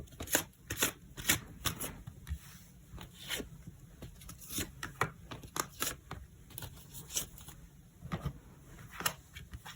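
Tarot cards being shuffled up close, a rapid irregular run of crisp riffling and slapping bursts lasting several seconds with no voice over it.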